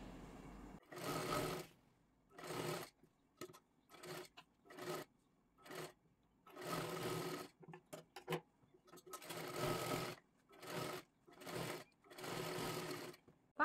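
Short repeated bursts of a sewing machine stitching a princess-cut blouse, each run lasting about a second with brief silent gaps between, close and clear with no talking.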